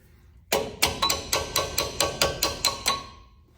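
A hammer strikes brake parts on a 2002 2500HD about ten times in a steady, ringing rhythm, close and loud, after a quiet start.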